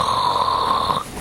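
One steady snore, close and fairly loud, holds a droning, whistling tone for about a second and then breaks off abruptly.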